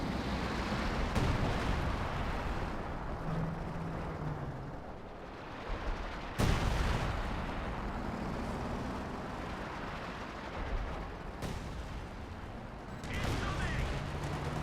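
Artillery barrage in Company of Heroes 2: a continuous rumble of distant and near shell blasts, with sharp louder impacts around the middle and later, layered game battle noise throughout.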